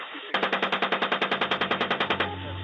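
A Bushmaster 25 mm cannon fires a rapid, evenly spaced burst of about twenty heavy rounds for roughly two seconds, loud and close, then stops abruptly into a fading rumble.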